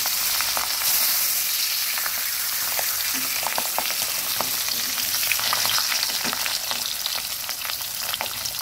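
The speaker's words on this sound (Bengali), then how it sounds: "এভাবে কড়াইতে মাছ রেখে তারপরে যদি পরের বেশ দেওয়া হয় তাহলে তেল কিছুটা কম লাগে।" The remaining pabda fish frying in oil in a kadai, a loud, steady hiss of sizzling with scattered sharp crackles and spits throughout, close and uninterrupted, without any speech.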